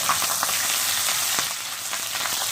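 Onion frying in a pan for baingan bharta, a steady close hiss with scattered crackling pops throughout, no voices.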